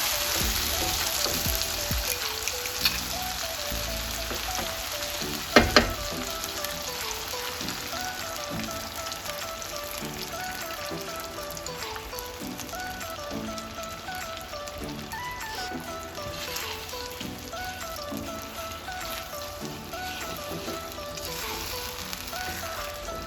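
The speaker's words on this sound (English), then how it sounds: "So we're mixing it, stirring it round for that scrambled texture." Scrambled eggs sizzle steadily in a hot pan, a continuous crackling fry with soft scraping from stirring and a couple of sharp clinks partway through, heard up close under background music.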